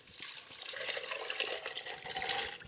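Soaked white beans and their salted soaking water pouring into a pot, a continuous close splashing and gurgling stream of liquid lasting a few seconds.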